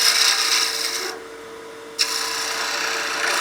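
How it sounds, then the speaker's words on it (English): A skew chisel makes a peel cut on spinning wood on a lathe, a loud hissing scrape that drops out briefly before resuming with a sharp bite, over the lathe's steady hum. "We can switch to our skew, do a nice peel cut, just to get rid of some of this material."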